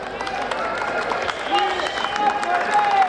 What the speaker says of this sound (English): Not that big of a cheer there, was it?